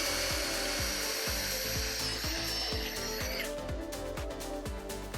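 A power drill bores holes for cabinet hardware, its whine running steadily across the clip. Regular rhythmic knocks sound beneath it, and the high pitch drops away partway through.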